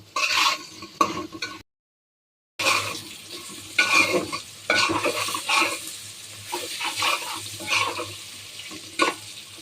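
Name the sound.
pointed gourd slices frying with spices in pan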